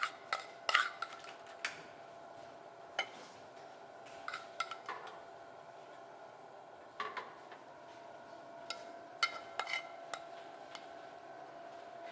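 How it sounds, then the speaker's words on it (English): A metal spoon scrapes and taps against dishes while ragu is spooned over food, light clinks scattered irregularly over a faint room background. "So we're just going to spoon a little bit of the ragu on top of each one."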